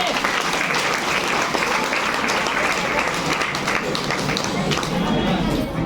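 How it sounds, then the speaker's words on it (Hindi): Loud, sustained applause from a crowd fills the room evenly from start to finish, with a voice faintly beneath the clapping. "ललिता मैम रमेशा सर के लिए जोरदार ताली।"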